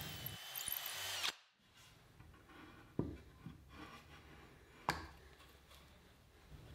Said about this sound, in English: I'll use a longer bit in my handheld drill to finish drilling the hole.